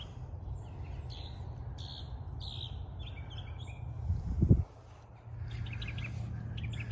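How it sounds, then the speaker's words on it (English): Small birds chirp in short, scattered calls outdoors on a natural farm, faint over a low steady hum, with a brief louder thump in the middle. "Oh, we have birds too, so they have pigeons and seagulls."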